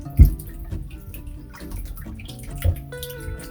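Cow skin soaking in water with baking soda gets washed by hand, giving splashy sloshing and dripping with a couple of louder slaps near the start and again later, heard up close.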